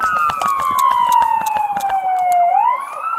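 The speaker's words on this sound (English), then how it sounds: "You got an ambulance in front of you now." A loud wailing ambulance siren sweeps downward in pitch and then rises again, close by, with sharp clicking or tapping sounds and faint voices around it.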